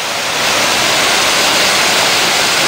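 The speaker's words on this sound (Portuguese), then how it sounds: "Então aqui o Rio Araguari já tem uma queda grande" Roaring waterfall of Cachoeira dos Bandeirantes on the Araguari River, a steady, loud broadband rush of falling water filling the whole clip with no pauses or voices.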